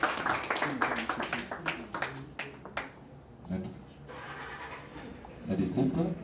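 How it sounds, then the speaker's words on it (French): A reception audience claps in a burst of rapid, fairly close hand claps that fade after a few seconds, with quieter clapping returning near the end under indistinct background voices. "On applaudit encore une fois de plus"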